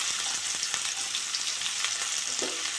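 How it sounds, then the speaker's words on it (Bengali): Onion and green chillies fry in a pan for a fish and potato curry, giving a steady close sizzle with faint stirring scrapes throughout. "পেঁয়াজ আর কাঁচা লঙ্কাটা একটু ভেজে দেবো।"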